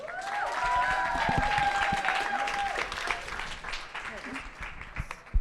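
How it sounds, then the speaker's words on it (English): An audience claps for a speaker at a tech community talk, moderate applause with distinct individual claps mixed with voices and chatter, tapering off toward the end. "please, a round of applause to Alexis"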